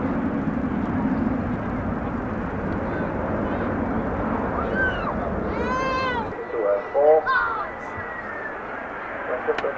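Russian airliner jet engines roar at the Farnborough Air Show, a loud broad rumble that drops away partway through, leaving thinner airshow noise behind, with a voice speaking over it.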